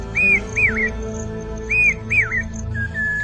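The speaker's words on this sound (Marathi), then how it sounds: "भात शेतीच्या मळ्यावर पावसा पक्षी त्याच्या मधुर स्वरात जणू पेरते व्हा पेरते व्हा अशी साथ घालतात" A bird whistles clear, rising-then-falling calls in two paired bursts, loud and close, followed by a shorter softer note, over a low background hum.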